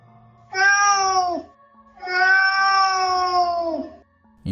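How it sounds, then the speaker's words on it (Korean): A cat cries twice as a horror-story sound effect, two long, loud, wailing meows close by with a pause between them over a faint low hum. "또 고양이가 막 울기 시작하는 거야."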